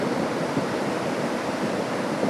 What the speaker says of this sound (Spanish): Nunca había visto una correntada yo así, señores